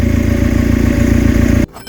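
Westfield SEiW kit car engine idling after a new cambelt was fitted, a loud, even, smooth rhythmic thrum close up that cuts off abruptly near the end, leaving quiet background.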